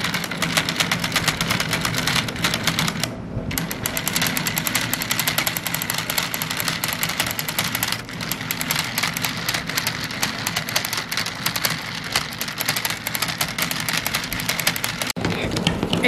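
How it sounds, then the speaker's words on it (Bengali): An electric hand mixer whips dalgona coffee, giving a steady whirring drone that runs unbroken and fairly loud, with a brief dip partway through. "যার জন্য আবার একটু আমি মেশিন চালিয়ে"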